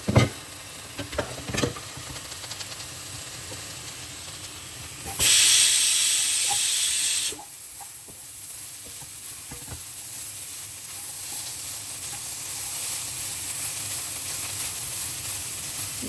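A dish cooking in a pot with a few spoon knocks early on, then a loud, steady steam hiss for about two seconds before it drops back to a quiet simmer.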